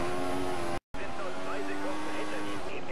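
A Formula 1 race car in the F1 2014 video game held at full throttle, with a steady high engine whine and a brief dropout of sound partway through. A voice talks over it throughout.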